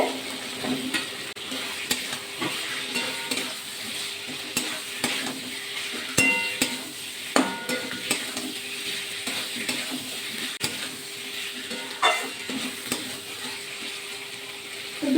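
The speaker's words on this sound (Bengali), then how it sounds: "এবার পটলগুলো অ্যাড করব দিয়ে আবার দিয়ে আপনি ভালো করে নাড়াচাড়া করে কষিয়ে নিতে হবে" Pointed gourd and potatoes stir-fried in a pan, a continuous close sizzle broken by frequent rhythmic scrapes and clacks of a spatula against the metal, with no voices.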